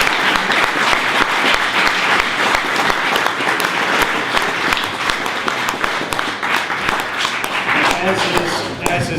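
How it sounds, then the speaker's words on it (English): Steady, loud audience clapping fills the room without pause, a broad wash of many hands at an indoor gathering. "How about a round of applause?"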